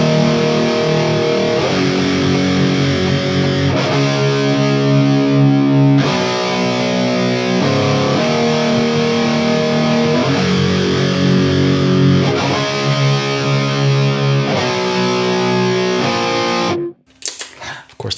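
A PRS DGT electric guitar with humbucker pickups through a heavily distorted effects preset plays thick, sustained power chords in a steady rock pattern, loud and up close, with a brief noisy scrape as it cuts off at the end.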